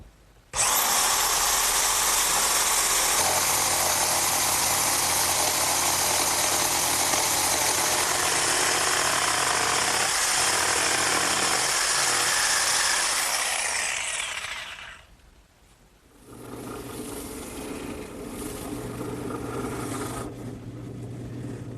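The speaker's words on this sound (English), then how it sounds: "this portable jigsaw will do just fine." A loud, steady portable jigsaw whine cuts wood continuously for about fifteen seconds, then stops, leaving a quieter motor hum running alone.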